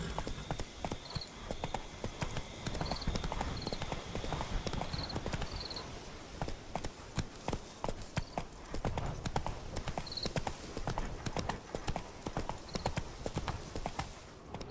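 In The Witcher video game, Geralt's horse Roach gallops in a steady, rapid rhythm of hoof clip-clops that runs on without a break, with faint high tones and brief noises scattered over it.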